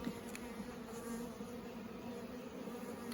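Honey bees around a beehive split give a continuous low buzzing drone heard outdoors, steady and moderately close, with no talk.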